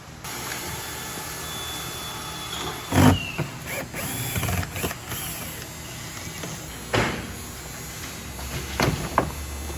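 Several sharp pops and cracks at irregular intervals as a Ford E-Series van door panel is pried off, plastic clips snapping loose, with quieter scraping and rustling between them.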